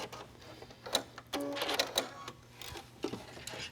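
A sewing machine sews a zigzag stitch back and forth in contrasting thread on a foundation tank top, heard as faint, short bursts of whirring and clicking.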